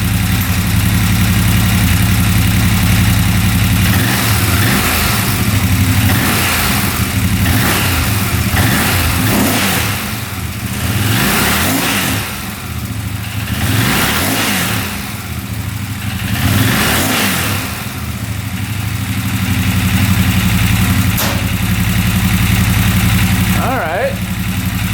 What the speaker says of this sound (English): Give it a couple revs.